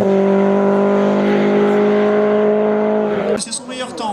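A Renault Clio race car at a hill climb holds a loud, steady high-revving engine note close by for about three seconds, then the tone drops and shifts as it changes gear or pulls away; someone commentates over it.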